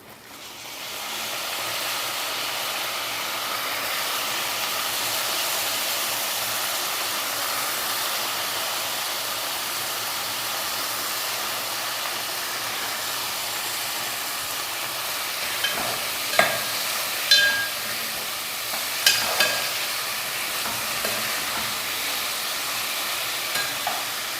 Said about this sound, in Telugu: ఈ ఉల్లిపాయల్లోకి మనం ముందుగానే కట్ చేసి పెట్టుకున్న వంకాయలను వేసుకుందాం.